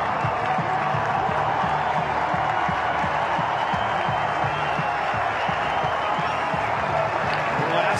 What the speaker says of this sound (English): The crowd split in their loyalty over that changeover, both trying to out-chant each other